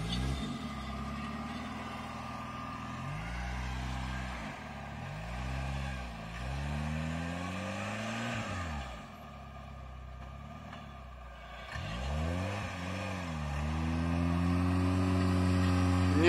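An off-road Wrangler stuck in a sandy pit revs hard over and over, its engine rising and falling in long swooping surges, close and loud, with low rumble between pushes.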